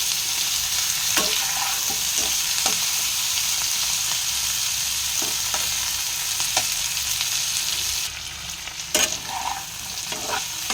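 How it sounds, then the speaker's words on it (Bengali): Potatoes and cauliflower fry in a pan with a steady, close sizzle, broken by a few stirring scrapes and clinks over about ten seconds and no talking. "এবারে খুব ভালো করে ফ্রাই করে নেব"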